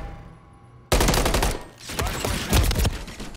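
Dense automatic gunfire from Call of Duty: Modern Warfare III ranked play erupts suddenly and keeps rattling in rapid overlapping bursts, loud and close, after a quieter lead-in.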